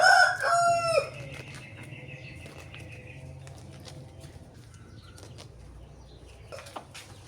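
A rooster crows loudly at the start, followed by wing flapping and scattered faint clucks against a quiet background.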